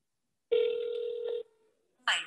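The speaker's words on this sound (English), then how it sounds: "I'm going to go ahead and call the chatbot. I'm going to put it on speakerphone" A phone on speakerphone calls a customer-service chatbot: a single steady electronic ring tone about a second long, close and clear, followed after a short pause by a synthetic voice beginning to speak.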